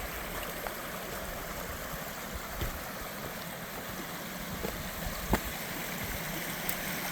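Water cascading through a mountain ravine on the Pennsylvania Blue Mountains, a steady broadband rushing wash heard from a distance, with a few faint clicks and taps over it.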